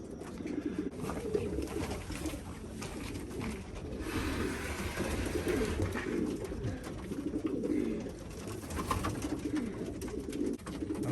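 Pigeons coo steadily and close by after a long flight, their soft repeated calls layered over a busy loft background with occasional rustling.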